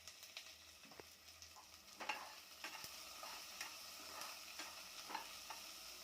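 Onion sprinkled with a little salt fries in a pan, making a faint, continuous sizzle broken by scattered soft ticks and spatula scrapes, heard alone and fairly distant.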